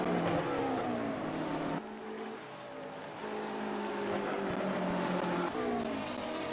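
A BMW GT3 race car runs at speed around Road America during a 24-hour endurance race, its engine a loud, sustained roar. A brief drop in pitch suggests a gear change or lift before it pulls hard again. No talk is heard over it.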